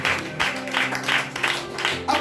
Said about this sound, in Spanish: Denle un aplauso fuerte al que vive en esta mañana